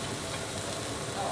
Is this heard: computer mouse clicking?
no